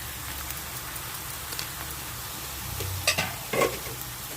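Onions fry quietly in a pan with a soft, steady sizzle, with a few sharp scraping stir sounds near the end as cumin powder goes in while making a potato gravy.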